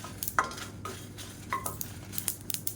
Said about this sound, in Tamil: பாருங்கள், எள்ளு வெடிக்க ஆரம்பிச்சிருச்சு